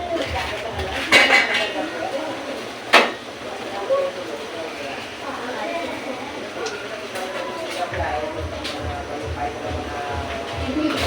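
Squid going into a hot pan to cook, a clattering clink of utensil and pan followed by steady frying sizzle, while a person talks over it.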